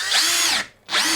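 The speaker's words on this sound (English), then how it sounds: "Just going to move this across to get a screw in this corner here." A power drill drives a screw into 9mm MDF on a CNC router bed: two loud bursts of rising high whirring motor whine, separated by a brief pause, with no talking.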